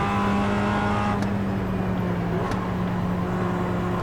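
A race car in the iRacing video game hums steadily then shifts and pulls harder as it accelerates, with road noise and a brief skid underneath, loud and continuous without voices.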